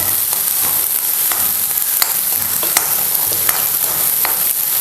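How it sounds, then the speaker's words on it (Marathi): Finely chopped onion sautés in hot oil with cumin and curry leaves for a rice dosa preparation, a close, continuous sizzle with occasional sharp clicks of a spoon stirring against the pan. "आता आपल्याला ह्यामध्ये बारीक चिरलेला कांदा घालायचा आणि चांगलासा आपल्याला कांदा आहे ना परतून घ्यायचा"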